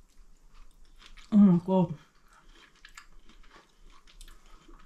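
Someone bites into and chews air-fried, homegrown sweet corn on the cob buttered and seasoned with salt and pepper; soft, wet chewing sounds come close up around a brief spoken exclamation.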